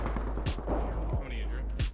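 Enemy gunfire in Apex Legends: a few sharp shots spread over two seconds, moderately close, over a steady low rumble of game sounds.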